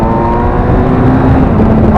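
A Kawasaki Z1000 SX motorcycle accelerates hard to overtake, its engine note climbing in a loud, steady roar mixed with wind rush.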